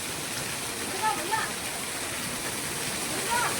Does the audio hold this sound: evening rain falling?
yes